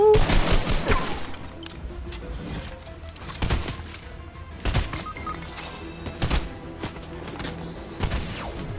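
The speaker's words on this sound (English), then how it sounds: "the IO guard is shooting me through the wall" Gunfire from an IO guard in Fortnite comes through a wall as sharp, scattered shots and short bursts spread across the clip, loud at the start and then recurring at intervals.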